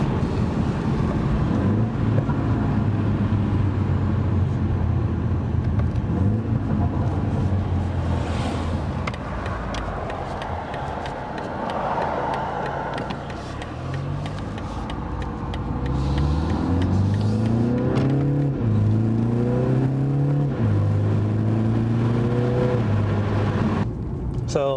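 BMW G20 330i fitted with a VRSF downpipe, its engine revving in several rising and falling sweeps, loud and close, with a person talking over the engine at times.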